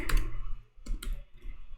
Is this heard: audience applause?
no